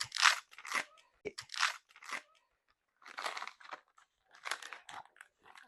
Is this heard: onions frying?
no